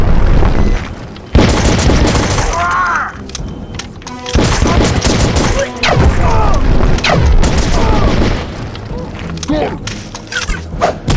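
Gunshots and heavy booms in the Outcast action game, loud bursts and thuds scattered across the scene, interleaved with voices and other game sounds.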